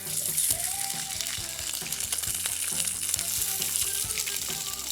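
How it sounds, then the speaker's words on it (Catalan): Steady, crackling sizzle of sardines frying in hot oil in an air fryer, close and continuous, with faint tonal background sounds underneath. "l'oli el tinc calent, i les poso a la fregidora d'aire"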